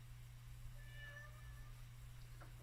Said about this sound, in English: then we hear a cat